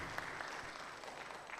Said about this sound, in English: A good round of applause for the team.